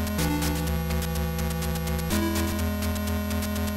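An Intellivision video game plays through the IntelliVoice add-on: dense, buzzy electronic tones sustain over steady static, with the pitch shifting partway through.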